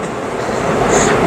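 Steady rumble and rolling noise of a commuter train ride in motion, with the carriage sound holding loud and even throughout, no talking heard.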